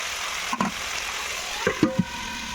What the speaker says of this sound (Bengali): তেলটা গরম হয়ে গেলে ম্যারিনেট করা কাঁকড়াগুলো ঢেলে দেব